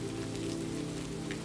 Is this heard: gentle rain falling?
yes